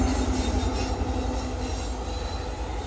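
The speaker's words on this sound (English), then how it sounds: "These modern diesels are really quiet." A modern diesel train rolls past at close range in Burlington, Ontario, a steady loud rumble of wagons and wheels with faint squeal, continuous for the whole stretch without any talk.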